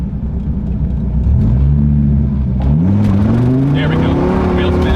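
A manual car launches hard with its engine revving and rising in pitch through two pulls, a loud close rumble that swells steadily, with a rough edge of wheel spin and a voice speaking over it.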